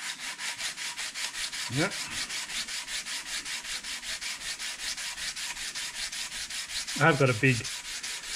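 A Ducati belt-drive oil pump part is rubbed flat against an abrasive surface in steady, rapid back-and-forth scraping strokes, close and continuous, with brief spoken remarks over it.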